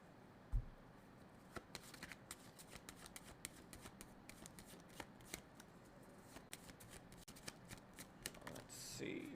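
Tarot cards shuffled and drawn during a live zodiac reading, giving soft repeated riffling and sharp flicking snaps spread across the clip, with one louder thump near the start and a person talking quietly underneath.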